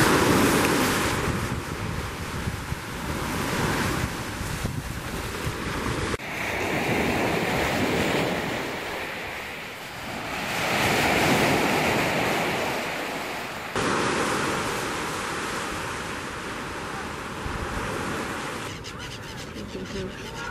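Ocean waves wash onto a beach in Barcelona with a continuous broad roar of surf, mixed with gusty wind buffeting the microphone, and the swells rise and fall in slow surges.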